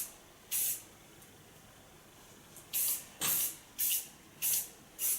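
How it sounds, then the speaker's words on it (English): Soft hairspray sprayed onto medium-long hair in six short hissing bursts: one alone near the start, then five in quick succession, close and crisp against a quiet room. "Starting with soft hairspray, the nice thing of soft hairspray is they can still play with the hairs."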